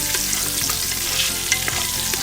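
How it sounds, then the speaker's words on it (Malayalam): Green chillies sizzle and crackle steadily in hot oil in a pan while being stirred, making a dense, close frying hiss with small scraping pops, and no talking. "നമുക്ക് പച്ചമുളക് ഇതിനകത്തേക്ക് ഇട്ട് കൊടുക്കാം. നന്നായിട്ടൊന്ന് ഇളക്കാം കേട്ടോ."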